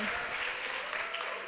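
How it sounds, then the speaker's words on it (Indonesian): An audience at a television programming workshop applauds, a dense, steady wash of many hands clapping at once, moderately loud and even throughout, with faint voices mixed in. "Tepuk tangannya."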